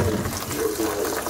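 Cold water runs from a kitchen tap over freshly drained spaghetti in a colander, making a brief, continuous splashing gush close by.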